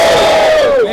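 A battle rap audience at Batalha do Coliseu roars and shouts for the MC Leão: one loud, sustained burst of crowd cheering and yelling that fills the whole second, then eases off slightly at the end.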